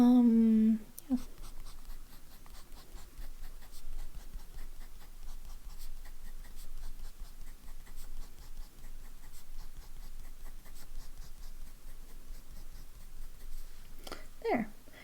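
Broad-nib Kaweco fountain pen scratches steadily across paper, close and quiet. A brief voice is heard at the start and again at the end.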